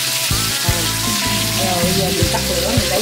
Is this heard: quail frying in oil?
yes